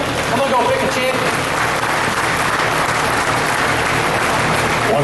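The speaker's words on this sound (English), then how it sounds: "Let's give these young people a big round." Warm, sustained applause from a crowd at a market lamb livestock show, honoring young ring helpers; dense, even clapping fills the arena at steady loudness throughout.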